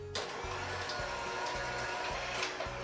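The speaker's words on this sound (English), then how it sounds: "we're going to beat it with an electric mixer until it's light and fluffy" An electric mixer beats unsalted butter for a birthday cake, a steady close motor whine with a rhythmic low churning pulse, running continuously with no talking.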